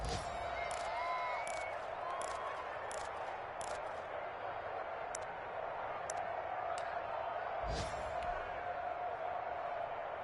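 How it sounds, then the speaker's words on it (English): Steady roar of a large NFL stadium crowd during a Falcons at Chiefs game's two-point conversion, a dense wash of voices with sharp claps and pops cutting through near the start and around the middle. "Listen to this crowd now."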